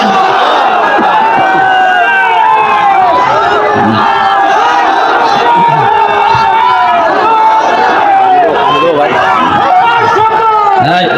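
A large crowd shouts takbir together in answer to a preacher at a religious gathering, a dense, loud, sustained roar of many voices that fills the whole stretch without a break.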